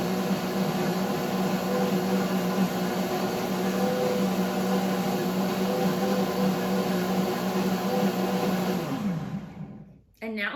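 A WantJoin commercial blender whirs steadily as it blends fruit into a smoothie, a constant loud motor hum that winds down near the end, followed by a brief clunk.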